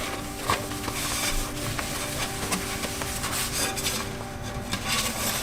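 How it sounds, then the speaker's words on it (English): A dry rag wipes paint off a model rocket nose cone in steady, close rubbing strokes, a soft continuous scrubbing texture without pauses or talk. "take a dry side of a rag, wipe it all off"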